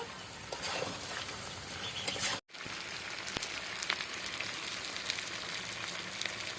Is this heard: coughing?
no